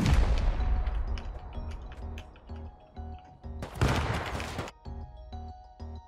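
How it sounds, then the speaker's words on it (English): Heavy blasts in a Rust raid, a large C4 detonation bursting loud and broad with crashing debris, surrounded by a run of repeated booming impacts and gunfire-like bangs in a tense, echoing base fight. "I'm gonna open this door the second that C4 booms."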